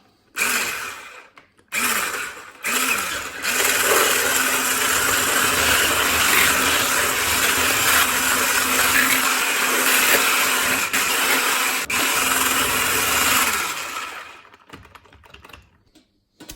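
An electric mixer whirs steadily through red velvet cake batter with butter and milk, a loud sustained motor drone after a few short starts, stopping near the end.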